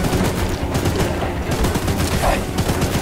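Rapid bursts of gunfire from the Choo Choo Charles video game fighting a mutant spider train, loud and dense, with cracking shots packed together in short volleys throughout.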